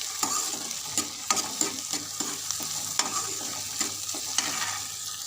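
Chili, ginger and garlic paste with tomatoes sizzles steadily in a pan for a ridge gourd curry, broken by regular scraping and tapping from a stirring spoon, close and moderately loud with no voices.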